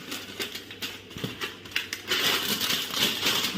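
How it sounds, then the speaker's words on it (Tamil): A metal cake tin being picked up and handled in a home kitchen while baking a wheat-flour coconut cake, giving light clinks and scrapes that turn into a steadier rustle. "இப்போ நம்ம கேக் டின்னு எடுத்தாச்சு."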